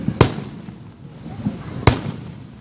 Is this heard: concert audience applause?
no